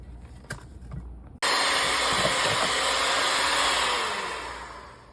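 After a brief quiet moment, an electric mixer switches on abruptly and whirs loudly and steadily while blending chocolate cupcake batter for Texas sheet cake cupcakes, easing slightly toward the end.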